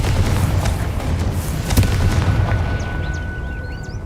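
A Confringo fire-spell blast in Hogwarts Legacy booms as one heavy low rumble, with a sharp crack near the middle, over continuous dense battle noise and a few high whistling tones.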